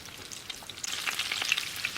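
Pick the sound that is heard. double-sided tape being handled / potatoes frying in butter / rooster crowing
potatoes frying in butter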